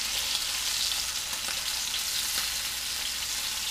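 Toady puffer fish frying in oil give off a continuous, bright sizzle with faint crackles and spits, steady and fairly close, with no talking.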